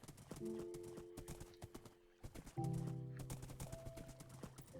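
Hooves clip-clop steadily on a horse in a Minecraft-style multiplayer survival game, with a whinny and sustained tonal game sounds layered over the rhythmic footfalls, fairly close and continuous throughout.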